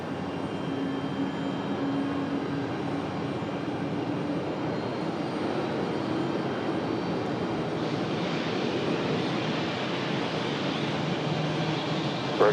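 An American Airlines jet roars steadily on approach to runway 23 right at Raleigh-Durham International, a loud, continuous engine rumble heard from outside that holds for the whole stretch.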